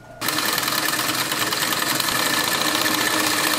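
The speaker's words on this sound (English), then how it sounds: "I am gonna do an edge stitch so it matches the kind of stock hem that was on the other side." A sewing machine starts up sharply and runs in a fast, steady mechanical chatter, close and loud, as it sews an edge stitch along the hem of a pillow cover.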